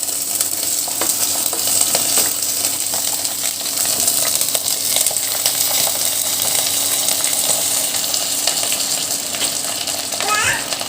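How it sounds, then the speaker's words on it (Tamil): Ivy gourd (kovakkai) pieces frying in hot oil, a steady dense sizzle running throughout with scattered small pops and a brief clink near the end. "இப்போ நம்ம வந்து ஆயில் ஹீட் பண்ணி இந்த கோவக்காயெல்லாம் ஆயிலில் போட்டுடலாம்"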